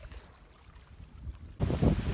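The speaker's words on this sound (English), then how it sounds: "And it's a little bit windy" Wind blows across a lake while paddling, with a low, gusty buffeting rumble that swells sharply louder partway through.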